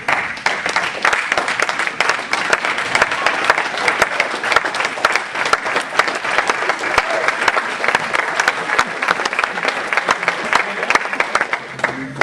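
An audience at a Portland State University Black Studies speaker series event applauds loudly and steadily for about twelve seconds, a dense unbroken wash of many hands clapping with no voices rising above it.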